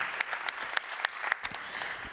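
Audience at a European Mobility Week award ceremony applauds a magician, a dense, moderately loud patter of many hands with a few sharper claps punctuating it throughout.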